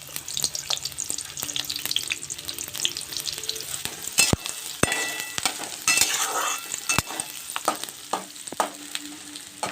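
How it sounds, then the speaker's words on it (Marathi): Chopped onion frying in hot oil in a pan, a steady close sizzle broken by sharp clicks and scrapes of stirring, with no talk. "आता कांदा सुरुवातले चांगला तेलात होऊ देतो लाल जरद."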